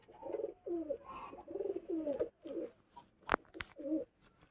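Pigeons coo close by in a run of repeated soft, throaty phrases with short pauses between them, and one sharp click or knock breaks in near the end.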